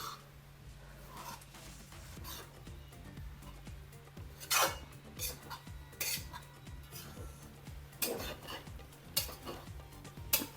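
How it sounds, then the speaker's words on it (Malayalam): A pan of sago upma is stirred steadily with a spoon, giving soft scraping and occasional clinks of metal against the pan, with louder scrapes now and then over a low constant hum. "ഇത് ഒന്ന് രണ്ട് മിനിറ്റ് ഇങ്ങനെ കിടക്കട്ടെ ഇളക്കി കൊടുത്തോണ്ടിരുന്നാൽ മതി"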